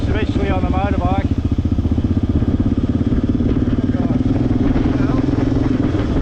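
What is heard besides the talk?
motorcycle riding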